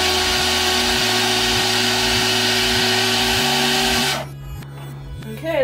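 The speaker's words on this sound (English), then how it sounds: "So we're gonna blend it up a little bit more, so it's almost like a juice, but it's still a smoothie." A blender whirs loudly as it purees a vegan protein smoothie, a steady motor roar with pulsing rhythm that cuts off abruptly near the end, leaving quiet rattles.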